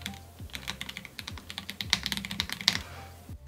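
Mechanical keyboard with yellow switches typed on at close range, a fast, uneven run of crisp clacks and thocks lasting a few seconds, with no talk over it.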